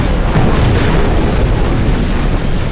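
A loud nuclear explosion in the video game Titanfall roars as one sustained, heavy boom with a deep rumbling body that holds without fading for nearly three seconds, with no voices over it.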